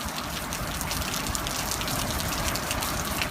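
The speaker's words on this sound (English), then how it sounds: "It is raining really hard." Heavy rain pouring down hard outdoors near a church, a loud, dense, continuous wash of drops and gushing water with no voices.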